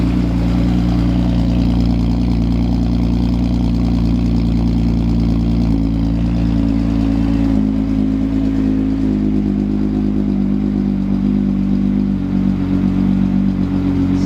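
A car engine fitted with a new performance chip idles as it warms up, a loud, steady, close rumble with a faint mechanical clatter running unbroken and no talk.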